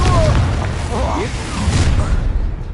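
Confringo fire spell blasting in the Hogwarts Legacy video game, a loud low boom with rumbling debris and whooshes, overlapped by voices and other game sounds.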